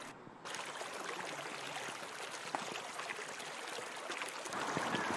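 A river stream runs past wooded banks, giving a continuous, fairly quiet wash of gurgling, rushing water, steady throughout with no voices.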